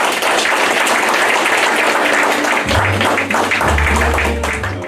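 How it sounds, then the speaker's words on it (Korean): Audience applause at an outdoor unveiling ceremony for a memorial marker at the former house site of the patriot Yi Jun, steady dense clapping throughout with a low rumble joining partway, no talk over it. "큰 박수 부탁드리겠습니다"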